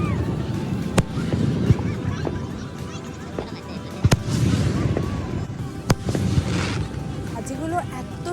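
Fireworks burst over a festival night in North Carolina with sharp, loud booms spaced a second or two apart and crackling between them, while a crowd murmurs and people talk nearby.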